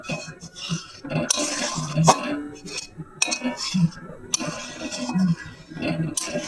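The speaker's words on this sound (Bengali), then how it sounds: "এইভাবে নাড়তে হবে।" Boiling milk in a pot is stirred for kalakand, with a spoon scraping and clinking against the metal pot in uneven strokes, close and moderately loud.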